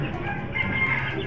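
Chickens cluck and a rooster crows in a rooftop breeding and flying pen coop, the fowl sounds loud and close, overlapping continuously with no talking.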